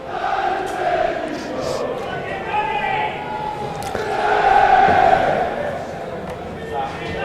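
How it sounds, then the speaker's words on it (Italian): Italian football supporters at a Treviso versus Marcon match roar across the stadium, a broad crowd wash that swells midway, heard beneath continuous commentator talk. "Si fanno sentire i tifosi."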